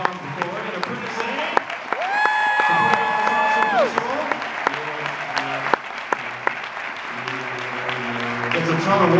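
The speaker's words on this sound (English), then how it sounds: "Give everybody a round of applause" A festival audience breaks into loud, sustained applause with scattered cheers, a bright whistle-like tone rising briefly above the clapping while a voice talks over the crowd.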